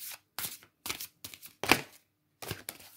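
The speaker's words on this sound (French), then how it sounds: "C'est un peu compliqué à mélanger." Giant oracle cards are shuffled by hand in six or seven distinct papery riffling bursts separated by short silences, close and fairly clear.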